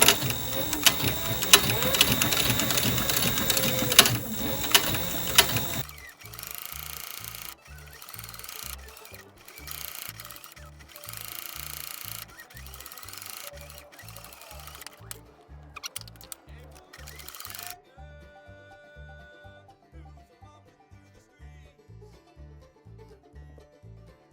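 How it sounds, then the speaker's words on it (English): A sewing machine runs at close range with a fast, even mechanical stitching rhythm, whirring and clicking steadily, with a brighter burst of noise at the start. "we'll throw them on the sewing machine"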